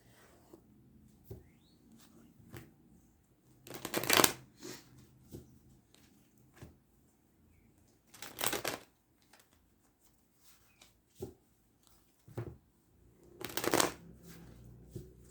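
Tarot cards being shuffled indoors, soft riffling bursts at intervals with light papery taps and handling sounds between them, fairly quiet and close.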